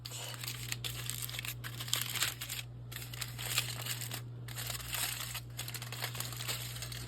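Faint, close crinkling and crumpling of wrapping as a warm package of cooked chicken is opened, in irregular bursts over a low steady hum, with no speech.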